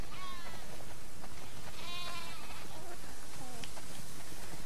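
Several sheep bleat in overlapping, wavering calls over a steady noisy background, some nearer and some farther off, in the video game The Last of Us Part II.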